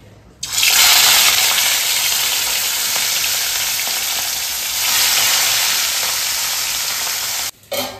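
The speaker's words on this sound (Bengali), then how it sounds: "তো মাছটা এখন হালকা করে ভেজে রেখে দিই" Fish fries lightly in a pan at home, a loud, continuous sizzle that starts abruptly, holds steady for about seven seconds, then briefly cuts out near the end before resuming.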